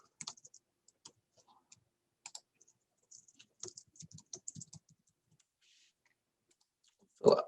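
Clicks of typing on a computer keyboard while credit card payment details are entered into an online form, coming in short irregular bursts with pauses, then a single louder thump near the end.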